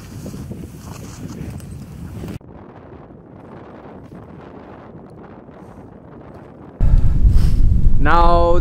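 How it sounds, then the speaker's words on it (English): Wind gusts buffeting the microphone outdoors in Swedish Lapland during light snowfall on a dog sled tour, with a rough rumbling roar that drops and then surges loudly near the end. "Now the wind is picking up a little bit and it's snowing more and more"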